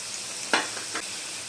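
Chicken mini kebabs fry over medium flame in a pan, a soft background sizzle broken by two short stirring or turning scrapes near the middle.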